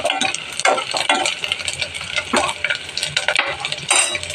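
Coconut pieces frying in a pan, a loud crackling sizzle broken by repeated scraping and stirring strokes of a spatula, close and without talk.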